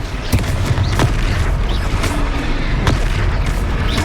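Confringo spell blasts boom in the Hogwarts Legacy video game, several loud, close explosive thumps at irregular intervals over a constant rumbling battle background.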